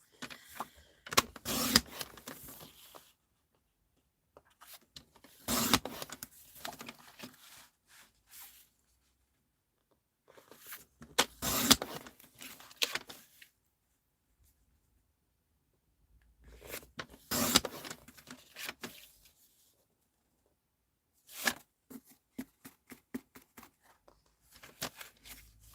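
Quiet snipping and scraping of paper tags being cut to size with a trimmer, coming in several short bursts separated by silences.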